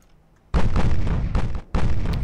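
A heavy naval gun blast rings out from a warship in Ultimate Admiral: Dreadnoughts, a loud booming salvo with a rumbling tail followed moments later by a second deep shot.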